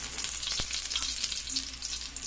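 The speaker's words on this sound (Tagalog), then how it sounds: "gisa na natin yung ating bawang" Garlic sautés in a pan, giving a dense, bright continuous sizzle with a sharp tap of a utensil early on, close and unbroken.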